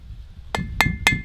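Hammer striking hot steel on an anvil while a pipe tool is forged and drawn out into a taper, giving three sharp, ringing metallic blows at a steady rhythm, close and loud.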